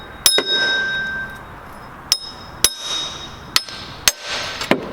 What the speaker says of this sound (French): petit marteau.